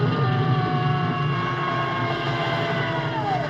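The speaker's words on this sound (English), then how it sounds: "The chopper's on the way." Cartoon helicopter sound effect, a steady droning engine and rotor hum with a rising whine, loud and continuous for several seconds with no talking.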